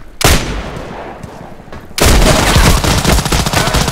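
Shooter video game firefight with a burst of rapid close gunfire, a brief lull of lower rattling shots, then a sustained loud volley of automatic fire to the end.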